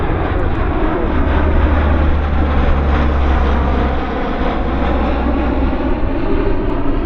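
Royal Canadian Air Force C-130 Hercules turboprop engines during a bundle drop, a loud, steady, continuous roar with a low droning hum, heard close and alone with no voices.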